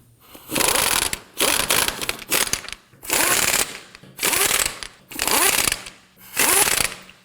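A ratchet snugs down lug nuts on a 2015-2024 Nissan Murano rear wheel hub, sounding as six loud, rapid clicking bursts of about half a second each, close by and separated by short pauses.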